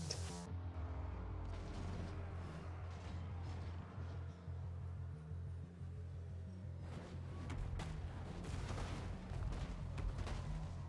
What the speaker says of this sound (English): I let the Grudge Throwers fire at the first target in range